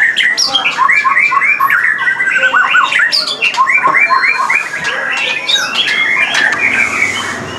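A caged white-rumped shama songbird calls loudly and close, pouring out rapid varied whistles, trills and chattering squawks continuously with barely a pause.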